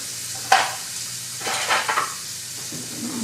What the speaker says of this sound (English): I need a mixing spoon to mix that up